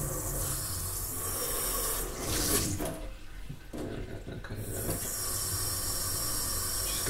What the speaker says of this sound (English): So we're just going to run the tap.